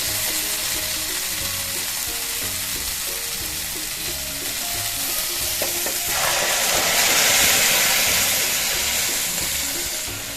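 Moong dal pours into a pan of sizzling spiced Bengali winter vegetables: a steady close frying hiss that swells into a louder, brighter rush of sizzling midway, then settles, with no talking.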